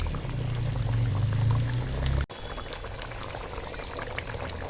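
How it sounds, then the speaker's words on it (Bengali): Beaten sour yogurt poured over boiled cauliflower and potatoes in a pot, a steady, close, thick pour lasting about two seconds, then soft kitchen clatter and stirring. "এখন ফাটি রাখা টক দই দিয়ে দেবো"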